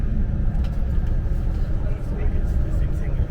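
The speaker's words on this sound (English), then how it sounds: "See, we're on the bus." Steady low rumble of a bus engine and road noise from inside a moving bus headed to Bangkok airport, continuous and fairly loud with no talk.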